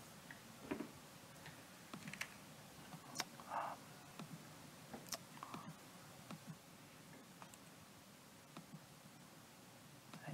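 Light, scattered keystrokes on a computer keyboard while a port number is entered for a CoAP client on a PC. The clicks are soft and irregular over a quiet hiss, with no speech.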